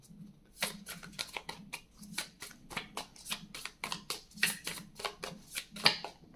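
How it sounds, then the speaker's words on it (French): Oracle cards being shuffled and handled from a deck, a close run of quick papery riffles and slides in bursts, fairly quiet with no speech. "Alors, je vais prendre une carte."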